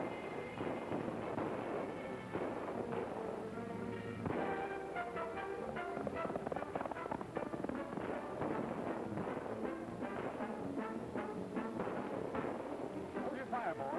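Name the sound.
gunfire in a 1937 western film shootout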